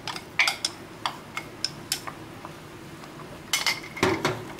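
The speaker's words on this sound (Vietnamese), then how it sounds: "Rồi mình sẽ trộn đều lên." A utensil stirs mung bean and lotus seed sweet soup in a pot, making scattered light clinks and taps against the pot at an uneven pace over a quiet background.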